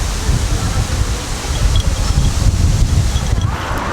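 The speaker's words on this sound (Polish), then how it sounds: "nie wiem czy będzie mnie słychać, bo jest przepotworny wiatr" Heavy wind buffets the microphone in a loud, continuous low roar that rumbles and surges without letup.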